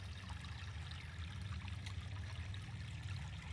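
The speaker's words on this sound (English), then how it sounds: "Hopefully you can hear the running water." Water running in a stream on an outdoor walk near cattails, a faint, steady babbling trickle with no voices.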